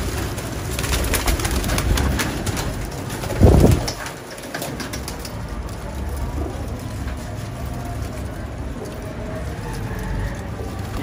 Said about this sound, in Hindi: ये तकरीबन 55 कबूतर हैं जी,